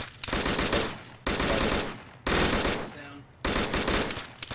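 Automatic gunfire in a video game, four rapid bursts of loud machine-gun fire separated by brief gaps.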